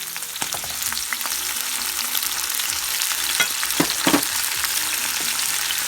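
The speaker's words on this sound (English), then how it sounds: "I'm going to start sauteing all the vegetables that I chopped up." Chopped vegetables and tomatoes for a Cuban sofrito sauté in a hot pan, giving a loud continuous sizzle close by, broken by a few clinks and stirring scrapes.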